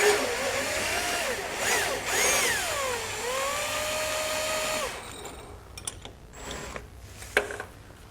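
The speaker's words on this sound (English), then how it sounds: "we can grab our impact and we can take it the rest of the way out" An impact wrench spins a Loctite-coated bracket bolt out on a 2019 Chevrolet Silverado 1500, a sustained rising and falling motor whine for about five seconds, close, followed by faint clinks and handling noises.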